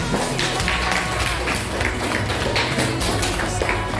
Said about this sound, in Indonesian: Tepuk tangan dulu untuk panitia ini.